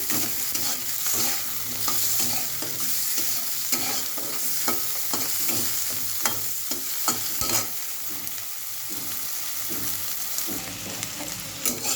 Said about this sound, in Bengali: তেলটা প্রচুর গরম হয়ে গেছে, যে কারণে এর ভিতরে আলুটাও দিয়ে দিলাম।